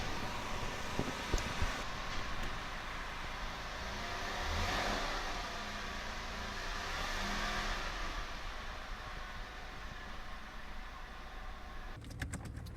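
A Porsche 997 engine running while warming up after new coil packs for a misfire, a faint steady idle with mild revving swells, heard at a distance with wind-like hiss.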